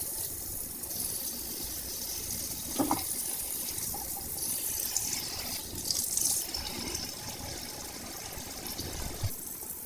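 Water pours steadily from a tap into a cooking pot in a home kitchen, a continuous close splashing gush lasting the whole stretch with small clinks and surges, no talking over it.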